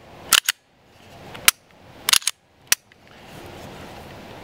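A Walther PPS 9mm pistol slide goes back onto its frame with a handful of sharp metallic clicks and snaps, close and distinct, followed by quiet handling noise.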